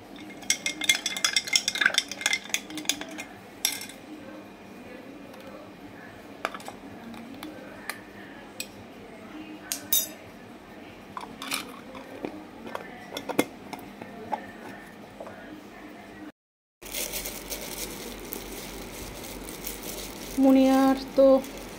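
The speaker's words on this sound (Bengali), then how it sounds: "দাঁড়াও, দুটো বাতাসা মিশিয়ে দিই।" A spoon stirring batasha sugar drops into a glass of water, with repeated quick clinks and taps against the glass in an irregular rhythm, close by, over a faint room background.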